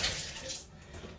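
Water being poured or run into a bathtub freshly sprayed with cleaner before scrubbing, a steady close splashing rush that eases off after about half a second, with no talk.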